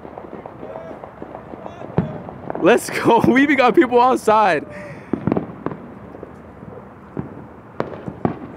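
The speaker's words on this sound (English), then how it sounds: "I want to see some of these fireworks." Fireworks going off outdoors across Los Angeles after the Dodgers won the 2020 World Series: a steady crackle of distant bangs and pops under excited talk and cheering, with whistling rockets rising in a burst midway.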